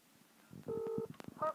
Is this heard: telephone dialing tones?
yes